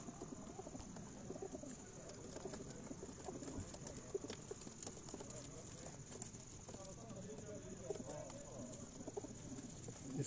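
Teddy pigeons coo on a rooftop loft at a farmhouse, a low, steady murmur of calls running under nearby talk and general background noise, with occasional clip-clop-like taps.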